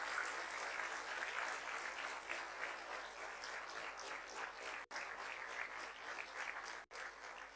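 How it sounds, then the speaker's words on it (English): Parents and students at a commencement ceremony applauding the teachers, a long even round of dense clapping heard from some distance, quite faint, with two brief dropouts. "Can I request the parents and students to applaud all the teachers who made your students what they are?"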